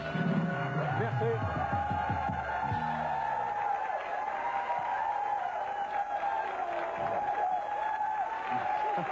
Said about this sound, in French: Je reconnais ces applaudissements.